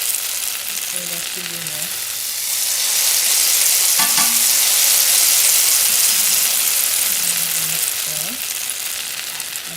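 Curry powder sizzling loudly in a pan for pumpkin curry shrimp while being stirred, a dense hiss that swells in the middle with scraping spoon strokes, and a voice speaks briefly over it.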